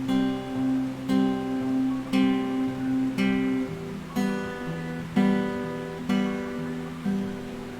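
Guitar phrase picked from tablature, a sequence of clear plucked notes ringing one after another at a steady moderate pace, each note sustaining into the next, with no talking.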